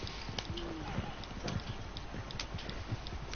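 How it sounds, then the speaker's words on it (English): Horses gallop behind a posse in Red Dead Redemption 2, a steady rapid clip-clop of hooves running under a dense background, moderately loud and continuous without talk. "The horses riding behind you is after us."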